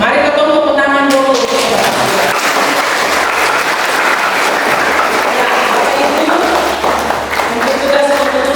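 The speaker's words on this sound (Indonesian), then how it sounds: "Mari kita tepuk tangan dulu." A church congregation applauds during a service, a loud, dense, continuous roar of clapping sustained for over eight seconds, with singing or voices audible at the start and end.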